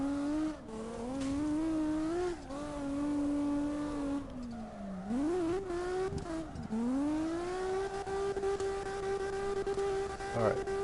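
A Toyota Supra engine in the CarX Drift Racing game, droning steadily with a rising and falling pitch as the throttle shifts, dipping briefly twice before settling into a sustained, even rev.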